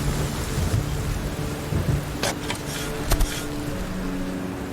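Monsoon rain pours steadily on the Valparai plateau while a thunderstorm cracks with a couple of sharp, close thunder bursts over the constant hiss of rainfall.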